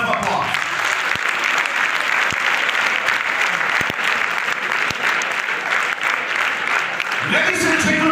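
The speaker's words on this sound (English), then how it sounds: "Give him a big round of applause" A school farewell audience gives sustained, dense applause throughout. The clapping is loud and even, with a brief voice near the end.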